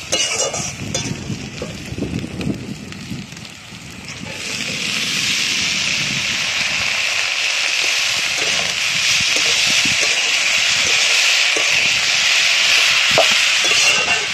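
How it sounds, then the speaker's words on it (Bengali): Prawns and chopped onion fry in a pan of hot oil as part of a kalmi greens dish cooked in the Sundarbans; after a few seconds of low clatter, a loud, steady sizzling hiss sets in and continues to the end. "এবার কলমি শাকের জন্য চিংড়ি মাছ আর পেঁয়াজটা ভেজে নেওয়া হচ্ছে।"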